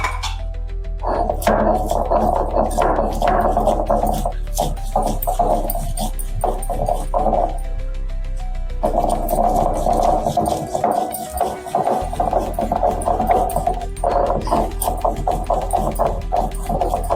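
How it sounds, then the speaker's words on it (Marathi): Garlic, green chilli and cumin ground into a paste, village style, with a steady, loud grinding hum and rhythmic knocking that runs almost without a break, dropping briefly partway through. "लसूण आधी वाटून घेते मी"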